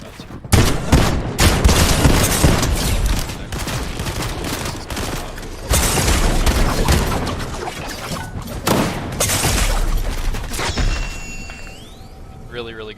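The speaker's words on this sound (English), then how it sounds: "Really do like the sniper shots here." Sniper shots in a Fortnite match ring out as loud, sharp reports in irregular bursts, layered with other gunfire and booms, under a busy game soundscape that quiets near the end.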